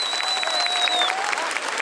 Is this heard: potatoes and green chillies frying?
no